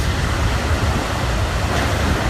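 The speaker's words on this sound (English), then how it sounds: "Look at those waves." Large ocean surf at Cabo San Lucas whipped up by a small hurricane, a loud continuous roar of breaking waves with low rumble and no pauses, close and alone.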